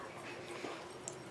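Dogs whimpering in a room, faint soft whines and yips over a low hiss of background noise.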